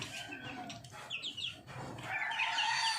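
Rhode Island chickens cluck and crow close by, mixed with higher chick peeps, a busy continuous flock chorus.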